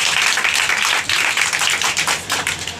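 Audience clapping at a school event honoring a teacher, dense steady applause filling the whole stretch, loud and continuous with slight swells and no talk over it.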